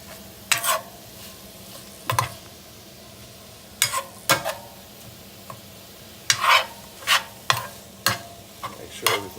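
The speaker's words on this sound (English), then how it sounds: "I've thrown in the soy chorizo" Soy chorizo sizzles in a hot pan on turned-up heat while a utensil stirs and scrapes it in sharp, irregular strokes over a low continuous fry.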